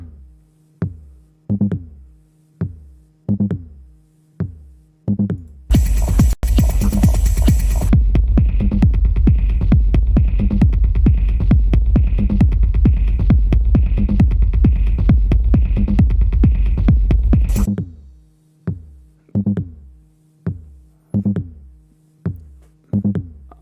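A steady low pulsing beat repeats, then a dense, loud throbbing bass drone swells in and holds for several seconds before stopping as the pulses continue.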